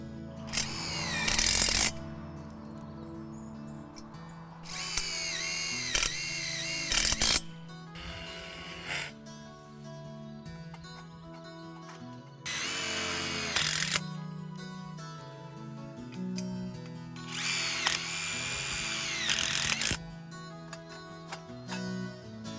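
Power drill driving tech screws into greenhouse roof bows during kit construction, with four loud whining bursts of a few seconds each and quieter mechanical handling between them, up close and without talk.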